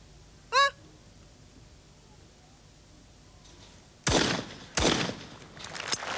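Two loud shotgun blasts in quick succession at double trap clay targets in women's Olympic shooting at Sydney 2000, sharp and cracking with echoing tails, preceded by a faint bird call and quiet outdoor air.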